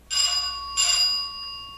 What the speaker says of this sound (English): The hell are those bells? Keep hearing them.